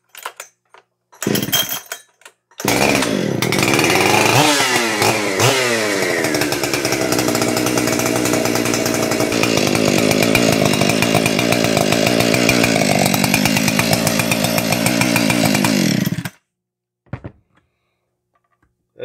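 A Husqvarna 372XP chainsaw with a 76cc big bore kit gives a couple of short sputters, then fires and runs hard for about thirteen seconds, loud and close, with rising and falling revs before cutting off.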